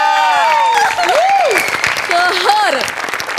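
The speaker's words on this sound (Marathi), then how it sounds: "जोरदार टाळ्या" A comedy stage show audience applauds loudly, with a dense steady clapping wash while voices ring out and call over it.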